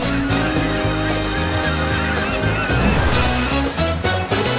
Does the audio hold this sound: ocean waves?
yes